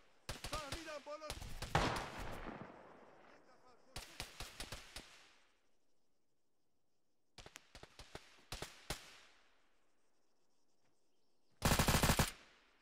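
Bursts of automatic gunfire in a military shooter game, several short rapid volleys spaced apart with gaps of quiet, ending in one loud dense burst; a voice talks briefly near the start.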